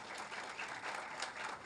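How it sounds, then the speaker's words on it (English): A college induction audience gives a speaker a welcoming round of applause, many hands clapping in a steady, fairly soft wash heard from a distance with no talk. "So kindly welcome him with a huge round of applause."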